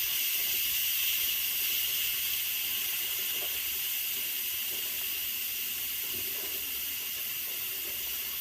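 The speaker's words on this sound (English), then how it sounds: "what we just did right now is a quick release" Steam hisses steadily out of an Instant Pot during a quick release, a loud, constant, broadband rush that stays even throughout with no talking.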